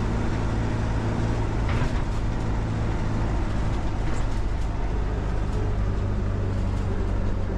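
Inside the cab of an old AVIA truck, the engine drones loudly and steadily with a low rumble and rattly mechanical noise, continuous for several seconds with no voices.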